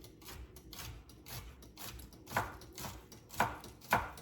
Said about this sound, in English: I'm gonna chop these up finely